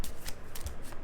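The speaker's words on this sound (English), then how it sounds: "I was just shuffling to keep it ready for the next reading." A deck of tarot cards is shuffled by hand in a few quick riffling bursts, close and crisp, with brief pauses between them.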